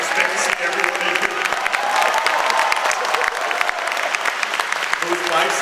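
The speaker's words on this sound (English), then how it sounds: "Everyone clap" A crowd at a PAX 2010 convention panel breaks into sustained applause, a dense wash of clapping with some cheering and voices mixed in.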